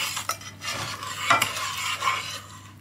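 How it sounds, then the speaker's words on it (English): Milk being stirred into a paste with a utensil in a bowl, heard up close as soft, irregular scraping and clinking strokes against the dish. "I'm going to sort of mix it in to make a paste type dealio"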